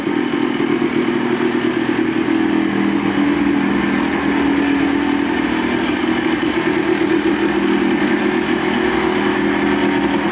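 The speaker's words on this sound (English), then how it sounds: "she's idling perfect now" A Yamaha Blaster ATV engine idles steadily up close, a continuous rumbling putter with a constant pitch and no speech.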